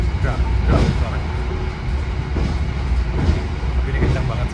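Inside an Argo Cheribon economy-class passenger train running fast between Jakarta and Cirebon, the stiff suspension gives a loud, continuous rumble with rhythmic clatter from the rails, up close, while a person talks over it.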